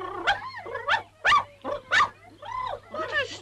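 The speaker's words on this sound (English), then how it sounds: "What a stupid dog you are." A cartoon dog in a 1959 children's puppet series gives a quick series of about seven yapping barks and whimpering yips, close and fairly quiet, with no speech.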